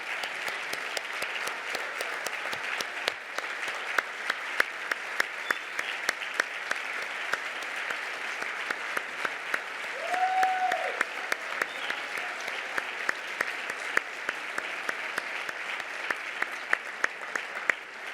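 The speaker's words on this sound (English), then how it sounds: "In theater, this is what you would call a standing ovation, standing O." A gala audience in Los Angeles gives a standing ovation, sustained loud applause with sharp individual claps standing out, swelling slightly near the middle, with a brief whistle-like tone and some crowd voices.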